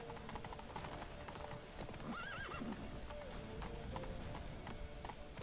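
Horse hooves clip-clopping at a steady gallop in the Witcher 3 video game, with a brief whinny midway through, all heard quietly under the game's other sounds.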